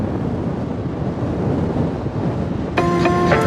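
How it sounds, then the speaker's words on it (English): Strong wind buffets a cruise ship deck while leaving Port Everglades, a steady loud roar of gusts on the microphone, joined near the end by a bright tonal sound like a ship's horn. "It's so windy."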